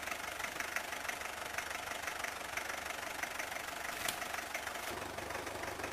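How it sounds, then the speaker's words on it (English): A tractor engine hauls logs out of the bush near Weymouth, Nova Scotia, in 1997, giving a steady, faint, distant knocking drone that holds without a break. "He's hauling the logs out with the tractor"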